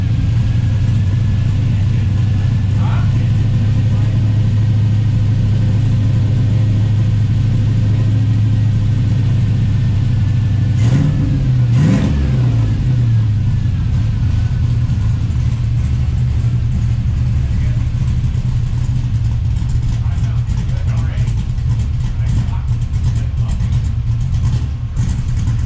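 LS V8 engine with a swapped, choppy cam, idling loud and steady with a lumpy rumble, then blipped into two short revs around the middle before settling back to its loping idle.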